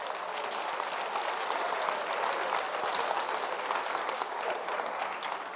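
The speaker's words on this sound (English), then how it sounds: "Give them a round of applause." Audience applause at a live mental-math show, a dense, steady wash of many hands clapping at once, loud and continuous with no talk over it.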